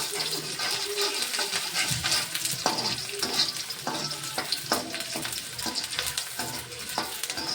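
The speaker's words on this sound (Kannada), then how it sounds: "ಆಮ್ಯಾಗ ಈರುಳ್ಳಿ ಹಾಕ್ತೀನಿ ಈರುಳ್ಳಿ ಎಣ್ಣೆಗೆ ಚೆಂದಾಗಿ ಫ್ರೈ ಆಗ್ರಿ" Onions hit hot oil in a pan and fry with a busy, close sizzle, broken by stirring scrapes and clatters throughout, with no talking.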